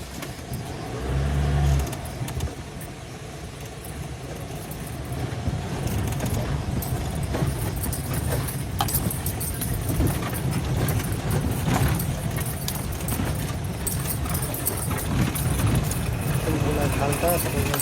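Vehicles grind along a rough off-road gravel riverbed road strewn with stones, a continuous rumbling engine and crunching wash under steady talk throughout, with occasional knocks and rattles.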